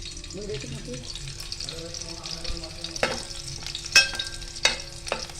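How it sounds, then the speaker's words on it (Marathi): Garlic fries and browns in a pan for a fish curry, a close sizzle broken by busy stirring scrapes and a couple of sharper clanks, with a voice briefly heard at the start. "त्याचा आपण लसूण तांबूस करून घेतो आहे"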